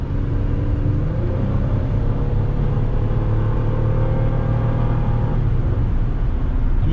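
A 2006 Lincoln Zephyr accelerating on a test drive, heard from inside as a loud, continuous low engine and road rumble with a rising tone that holds, then drops off near the end as the shift comes.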